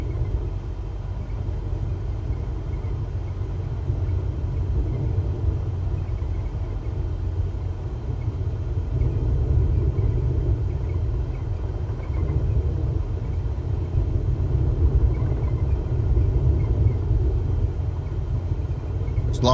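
A light aircraft engine in Microsoft Flight Simulator hums at around 1,000 to 1,400 RPM, a low steady rumbling drone that swells slightly midway and holds constant, with no speech.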